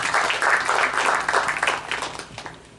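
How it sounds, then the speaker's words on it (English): An audience applauds at a talk on Islam and Muslims in the 21st century, a brief burst of dense clapping that swells and then tapers off. "please applaud her and support her"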